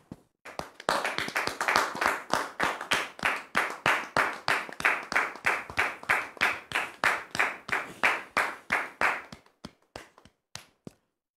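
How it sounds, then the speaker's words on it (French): A studio audience at a French-language talk show breaks into sustained applause, a dense run of claps that swells quickly, holds steady for several seconds, then thins out to a few scattered last claps. "On le reçoit sous vos applaudissements"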